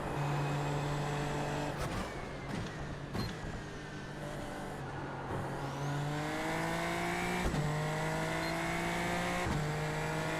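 A NASCAR race car engine on a high-speed track roars and shifts, with repeated rising revs and sharp gear changes, loud and continuous with no talk over it.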